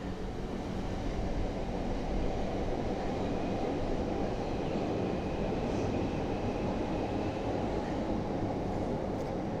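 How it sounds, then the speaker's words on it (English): A train rumbles past outside with a steady, broad roar that holds at even loudness throughout, with no voices. "Wait for the train."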